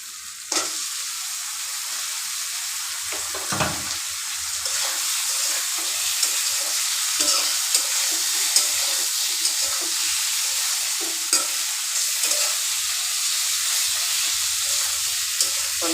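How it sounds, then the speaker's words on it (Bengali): Fish heads sizzle and fry steadily in a hot pan seasoned with salt and turmeric, with occasional scraping stirs and clinks rising above the continuous crackling hiss, close and fairly loud with no talking. "একটু নেড়ে চেড়ে মাছগুলো দিয়ে দিব।"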